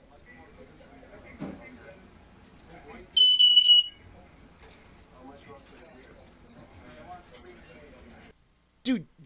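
Short high-pitched beeps repeat between chirps and soft background chatter, then a brief louder burst of shrill electronic-sounding bleeps, like a parrot imitating an alarm.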